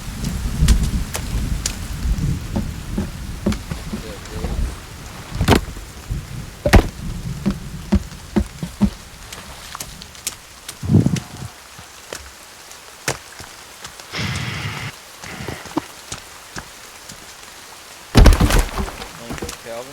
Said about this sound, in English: It does seem like the rain is stopping.